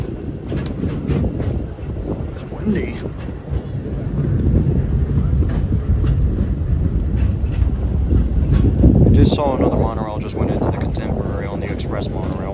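A Walt Disney World Railroad train rolls around the Magic Kingdom in Florida, with a constant rumble and rattle of the cars under wind noise and voices, growing louder near the end.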